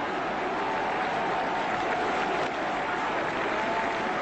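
Sustained, dense audience applause interrupts Lumumba's speech, a thick, steady roar of clapping and crowd noise with a slightly muffled, archival quality, holding evenly throughout.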